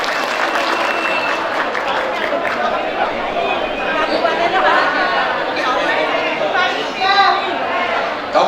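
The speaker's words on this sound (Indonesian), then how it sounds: "Tepuk tangan buat kita semua." A political rally crowd at YPAC in Malang Regency claps steadily while lively chatter and scattered voices run through it, with a few louder cheers toward the end.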